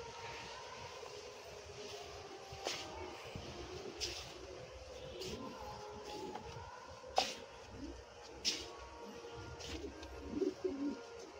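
Pigeons, satin and fantail breeds, cooing softly on a hot rooftop, with a few faint coos and wing sounds over a low hum of distant aircraft and traffic.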